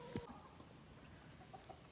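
Rooster at a chicken rodeo giving one short, loud clucking crow call near the start, then fading into steady outdoor background noise with faint distant sounds.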